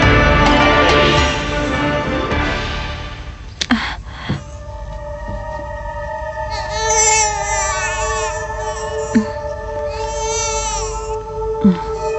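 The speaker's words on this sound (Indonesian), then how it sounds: "dengar suara bayi menangis?" Infant crying loudly and continuously, wailing in rising and falling bursts with brief breathy pauses, close and alone in a quiet outdoor setting.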